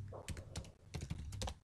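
Close, quiet clicking of keys on a computer keyboard while coding a PHP function, in quick irregular bursts with brief pauses between them.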